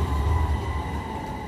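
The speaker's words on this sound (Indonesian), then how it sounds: "Ini adalah tramway." A tram rolls along a street in Istanbul, Turkey, giving a steady close rumble of wheels and motor hum with no voices over it.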